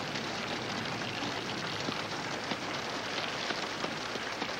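Steady, dense rain pattering on a surface, an even hiss of drops that keeps going without a break.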